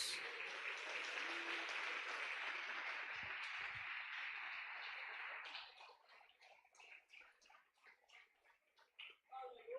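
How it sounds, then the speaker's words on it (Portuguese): A church congregation at a Sunday celebration service applauds in a dense, steady wash of clapping that fades after about five seconds into scattered, uneven claps, with a voice heard faintly. "Você pode aplaudir o Senhor por isso?"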